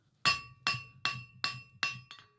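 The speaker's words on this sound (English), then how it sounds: "I'll start by just hammering on 4 sides but leaving the corners." A blacksmith hammers a metal bar on four sides for a twist, six sharp ringing strikes landing at a steady, even pace, each clang decaying briefly before the next, close and clear with no talking.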